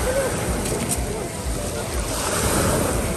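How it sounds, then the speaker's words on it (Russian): Waves wash continuously onto a Black Sea beach at Lazarevskoye, with steady broadband surf rumble and some wind buffeting the microphone, no voices. "Сегодня также волны."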